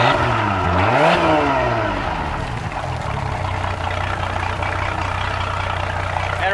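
A Yamaha sterndrive boat engine shifted into forward gear and given a little throttle, a loud, steady motor drone that rises briefly then settles into a constant running hum, with no talk over it.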